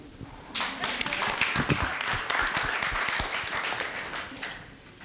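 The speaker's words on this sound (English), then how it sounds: "You don't clap for her, we won't clap for you." An audience at a celebration summit breaks into clapping after a short quiet lead-in, crisp individual claps building into sustained applause, then thinning out near the end.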